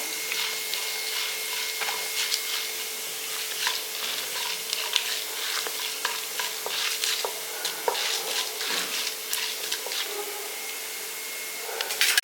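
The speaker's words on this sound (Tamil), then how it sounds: "இப்போ கடுகு நல்லா பொரிஞ்சிருச்சு" Steady sizzling of hot oil with a constant crackle of small sharp pops, like mustard seeds spluttering in a pan, continuing throughout.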